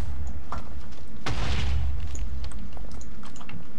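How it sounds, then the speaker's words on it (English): A cannon fires in a video game: one loud, deep boom with a rumbling low-end decay, followed by scattered lighter clicks and pops. "Cannon coming."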